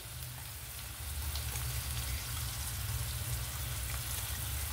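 Ivy gourd pieces frying in a pan with green chili and onion, giving a continuous, dense crackling sizzle that swells slightly after the first second and holds steady, with no talking.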